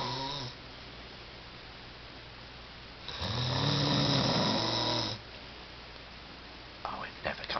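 An animal snores steadily at close range, with a soft, rough rasp broken by a louder, longer snore in the middle, then a few light stirring sounds at the end.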